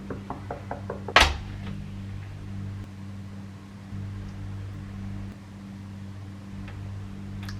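Five quick, evenly spaced knocks rap on a bedroom door, ending in a sharp louder thud, then a steady low hum fills the room.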